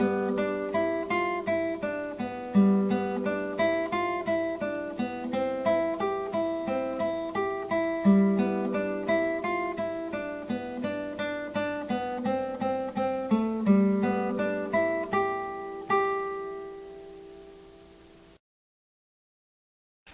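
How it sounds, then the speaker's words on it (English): Beginner rock pattern played on the first three strings of a guitar: a steady, even run of plucked notes forming a repeating melody, close and clean, without talk, ending in a ringing fade and then silence. "Now we're going to learn a little rock pattern on the first 3 strings"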